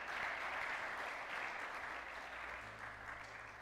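A church congregation applauds in praise, a steady wash of many hands clapping that holds evenly and fades slightly toward the end, with a faint low hum underneath.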